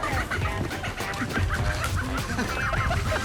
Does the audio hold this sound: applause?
no